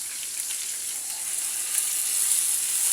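Tomatoes sautéing in a pan for sweet and sour sauce to go with pampano, giving a steady, close broadband sizzle that swells slightly toward the end, with no talking.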